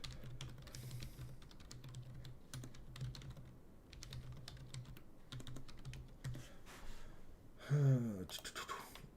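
Fast bursts of typing on a computer keyboard, rapid key clicks in short runs with pauses, fairly close and quiet, ending with a brief louder rustle.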